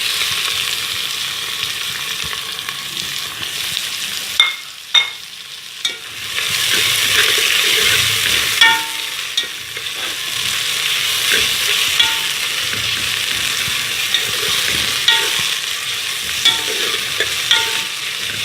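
Onion sautéing in three to four tablespoons of oil for shola khichdi makes a continuous close sizzle, broken by a brief dip and a few sharp stirring clatters near the start, then steady, with no voices.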